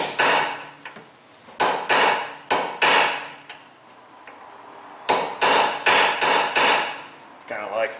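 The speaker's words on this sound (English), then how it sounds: "we just got to stake it down in the open groove of the axle" A hammer stakes the axle nut into the open groove of the axle on a Toyota Prius front wheel bearing job, with two sharp metallic runs of about four to five blows each, separated by a pause.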